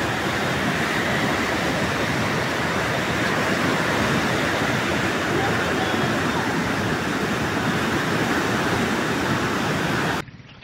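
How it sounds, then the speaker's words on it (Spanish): The swollen Sumapaz river floods past Cabrera, Cundinamarca, in a loud, continuous broadband roar of rushing water that holds steady for about ten seconds before dropping off abruptly. "Este es el río Sumapaz en el paso por el municipio de Cabrera, Cundinamarca. Hacía mucho tiempo que no se veía así de crecido."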